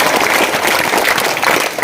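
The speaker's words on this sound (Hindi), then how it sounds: "एक बार जोर से तालियां बजाकर स्वागत करो अगर मंजूर है तो।" Audience at an award ceremony honouring an NDRF soldier claps loudly and steadily, a dense continuous wash of many hands filling the whole stretch without pause.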